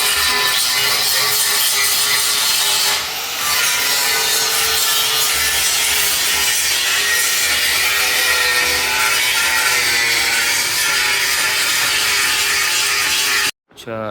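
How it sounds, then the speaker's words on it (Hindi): A grinder works along the edge of a Daihatsu Hijet's metal body panel during a scrap-to-new restoration, giving a loud, steady, dense rasp that runs almost without a break and cuts off sharply near the end. "अच्छा, इसकी किनारी हम लोग अभी ग्राइंडर मार रहे थे इसको"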